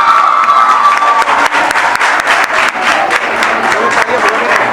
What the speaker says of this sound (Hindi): अरे तालियां बजाइए, तालियां बजाइए,